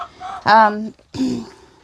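Silkie chickens, small hens among roosters, cluck in a few short bursts up close, with one louder harmonic call in the middle and a brief pause before a softer final cluck.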